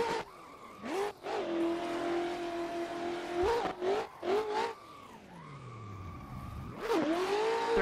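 A BMW E36 drift car works a mountain road, its engine revving and wailing through gear changes while the tyres screech in repeated bursts, loud and close.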